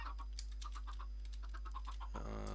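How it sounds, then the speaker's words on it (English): Chickens cluck in a block-building video game farm, a rapid run of short clucks through most of the stretch, ending in a brief different electronic tone over a constant low drone. "Got a lot of chickens from that bunch."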